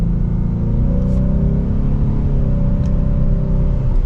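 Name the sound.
2024 Ford Mustang EcoBoost engine setting off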